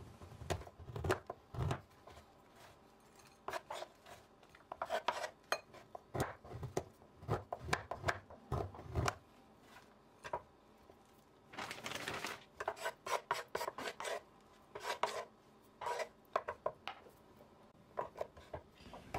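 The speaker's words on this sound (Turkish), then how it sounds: "Bir su bardağı beyaz çikolatayı küçük parçalar halinde kesiyorum." A glass of white chocolate chopped into small pieces with a knife, irregular bursts of close, scraping cuts on a board, some in quick runs, with quiet pauses between.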